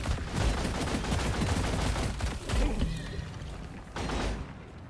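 Goo gun firing in Deep Rock Galactic, a dense, continuous spray of loud gunfire-like bursts that runs almost unbroken for several seconds, dips briefly, then surges again.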